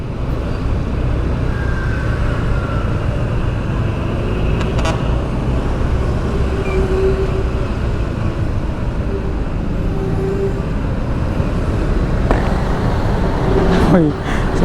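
Midday traffic roars along MacArthur Highway in Malanday, heard from a motorbike in slow congestion. A constant low road rumble fills the scene, with brief passing engine and horn-like tones standing out now and then.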